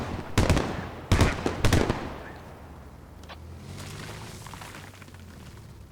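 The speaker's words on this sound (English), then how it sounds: "BMP got pissed at those mortars." Mortar rounds land in the military shooter game Squad: three sharp, booming blasts in quick succession, followed by a rumbling tail and scattered distant bangs.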